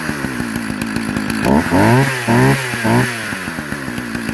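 A Partner 421 chainsaw engine runs close and loud, idling with a rapid rattling putter and then revving up three times in quick bursts before dropping back to idle.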